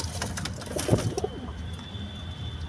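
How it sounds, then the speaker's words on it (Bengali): A pet pigeon coos close by, a short low throaty call near the start amid faint background rustle, with no talk. "এই পায়রাটা দেখুন।"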